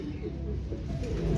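Racing pigeons arriving at a loft after a race, with soft low cooing close by against a quiet background.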